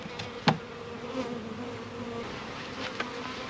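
Honeybees buzz at a beehive in a steady, dense insect hum that runs throughout, close and even, with a couple of faint knocks and taps on top.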